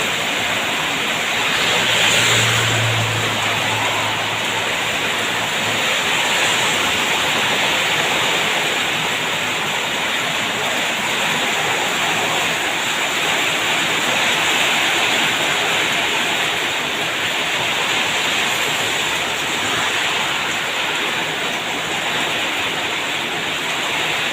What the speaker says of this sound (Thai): ฝนตกแรงมากเลย